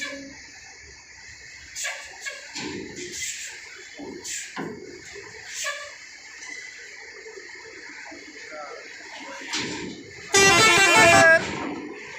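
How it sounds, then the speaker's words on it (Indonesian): A bus sounds one loud, sustained horn blast near the end, after a stretch of quieter street ambience with scattered knocks and a few voices talking. "Wah, ada bus"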